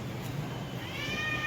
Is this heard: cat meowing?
yes